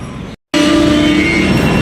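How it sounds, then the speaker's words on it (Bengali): The Brahmaputra Mail express train sits at Dhupguri station, giving a steady, loud mechanical rumble with a faint tonal hum. The sound cuts out completely for a brief moment, then resumes just as before. "ট্রেন আমাদের দাঁড়িয়ে পড়লো ধূপগুড়িতে"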